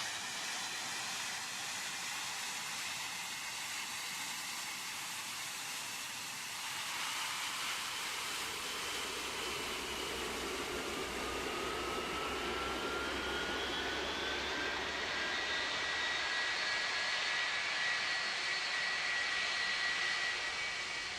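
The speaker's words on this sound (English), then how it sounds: "Engine 1 is now starting." Jet airliner engine starting up in the Roblox game Project Flight, a rising whine that climbs steadily in pitch over a constant rushing roar, heard alone without talk.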